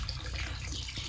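Continuous flowing water from a free household water source used for hand-washing laundry, a steady close rushing wash with no talk.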